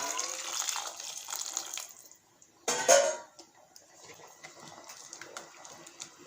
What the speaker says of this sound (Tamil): நீங்கள் அரிசிக்கு தேவையான அளவு தண்ணி மட்டும் இப்போ சேர்த்துக்கோங்க